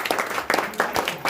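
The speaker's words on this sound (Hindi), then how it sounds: "ताली बजाओ, ताली बजाओ।" At a prize distribution ceremony, an audience claps in loose unison, with loud, close bursts landing in a steady rhythm about every half second.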